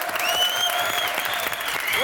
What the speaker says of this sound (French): Miss Jenny Belair, qu'on applaudit très fort.